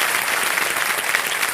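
Studio audience applause at a TV quiz show, a dense, steady wash of clapping that stays loud and even for the whole short stretch with no voices over it.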